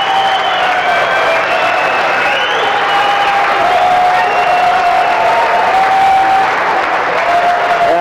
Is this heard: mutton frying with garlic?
no